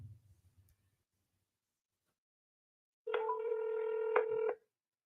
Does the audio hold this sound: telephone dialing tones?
yes